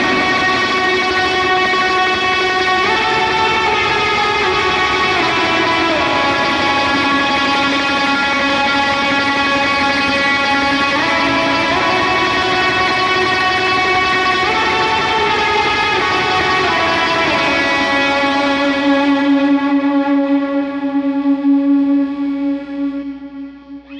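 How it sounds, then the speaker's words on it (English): An electric guitar lead part for a worship song bridge, played through an octaver and heavy reverb: sustained, thick, doubled-octave notes gliding between pitches, loud and alone, with a long washed-out tail ringing at the end. "the lead part for the bridge. And so that has like an octaver on it, has a lot of reverb"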